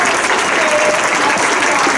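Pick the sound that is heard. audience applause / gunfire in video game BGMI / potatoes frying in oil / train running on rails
audience applause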